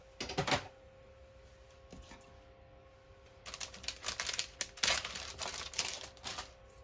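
Vellum paper is trimmed with a cutter in a few distinct strokes, a short crisp pass early on and then a longer, louder run of slicing and scraping, with no voices.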